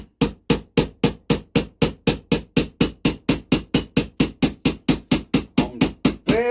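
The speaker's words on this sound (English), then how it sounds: "now we need to just tap that gently home with a blunt chisel" Steady, evenly spaced taps of a blunt chisel driving a part home on a rebuilt WW2 JAP 2A generator set engine, about two dozen sharp metallic knocks in a row, close and loud with no talking.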